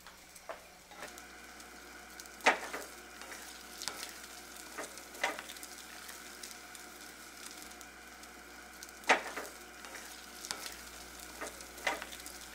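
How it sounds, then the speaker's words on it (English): Food frying and being stirred in a pan, a faint steady sizzle broken by scattered clinks and scrapes of a utensil against the pan, close by with no talk. "Come on, I'm gonna cook something."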